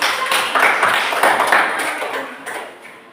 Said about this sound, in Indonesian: Kita semua tepuk tangannya.